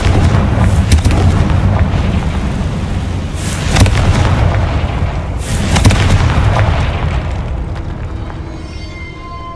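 Spell explosions from Hogwarts Legacy's Confringo curse in a catacomb boom loudly and heavily, several blasts rolling one into the next with no talk over them.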